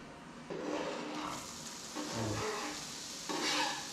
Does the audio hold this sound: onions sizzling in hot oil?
yes